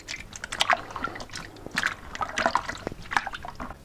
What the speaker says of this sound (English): So I'm gonna continue squishing the last remaining bits of strawberry.